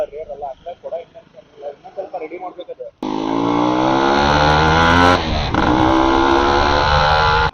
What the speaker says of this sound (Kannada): ನಾವಿವಾಗ ಪ್ರೆಸೆಂಟ್ ಆಗಿ ಓಡಿಸ್ತಾ ಇರೋದು 2002 ಮಾಡಲು RX Z 5 ಸ್ಪೀಡ್ ಅಂತ